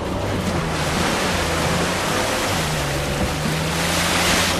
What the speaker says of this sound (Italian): Una grotta dietro la cascata